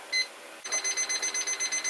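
A kitchen timer beeps: one short beep, a pause, then a fast, even run of high electronic beeps, close and fairly quiet.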